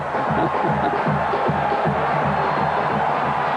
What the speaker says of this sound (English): And now this crowd at Kid Brewer is getting into this game.